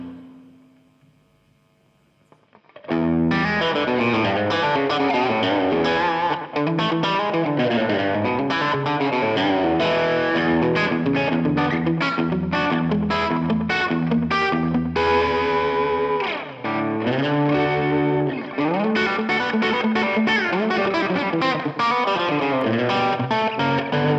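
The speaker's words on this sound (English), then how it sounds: "Adjust the time and try and get a slapback sound." An electric guitar runs through a Donner Echo Square pedal set for slapback echo: a few seconds of faint hum, then loud, continuous, busy playing with a processed, effect-coloured tone.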